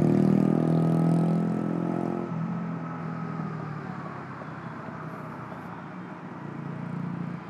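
A BMW CE 02 electric scooter rides along, its soft motor whine and steady road and wind rush continuous and fairly loud throughout, with the tone shifting slightly lower partway through.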